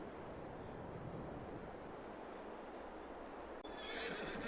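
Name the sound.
horse neighing, from video game Farming Simulator 22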